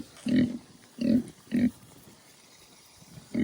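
A pet pig grunts in three close, fairly loud bursts followed by a fourth starting at the end, with quiet pauses between.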